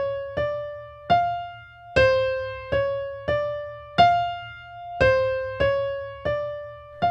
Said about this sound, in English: Riff number 2, slowed down, sounds like this.